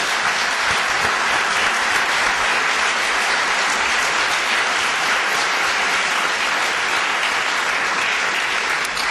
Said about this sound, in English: please join me again in another round of applause for them